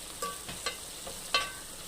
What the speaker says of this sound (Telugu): ఇది మంచిగా అల్లం వెల్లిగడ్డ పచ్చివాసన పోయేదాకా ఫ్రై చేసుకోవాలి